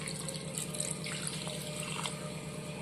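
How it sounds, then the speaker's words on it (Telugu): Water pours into a curry cooking in a pan, a steady running splash with faint gurgles, close and fairly quiet, with no talk. "కొన్ని వాటర్ యాడ్ చేస్తున్నాను,"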